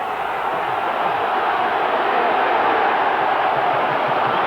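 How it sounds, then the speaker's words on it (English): Rugby league crowd at Halifax cheering and roaring during a Halifax v Leeds match, a steady dense wash of voices that swells slightly midway and holds loud throughout. "That's great cheering on from the crowd at Halifax"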